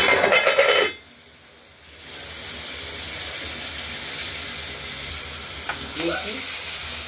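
Potatoes fry with spices in hot oil in a pan, a constant crackling hiss after a brief clatter, with a few soft stirring scrapes near the end.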